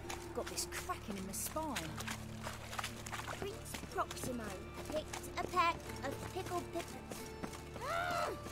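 In The Witcher 3, horse hooves clip-clop in a steady walking rhythm while people talk over them, with occasional other game sounds mixed in.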